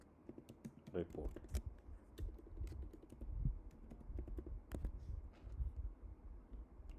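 Rapid, uneven keystrokes on a computer keyboard while a folder name is entered, close and clear over a soft room background, with a few louder clacks scattered through the run.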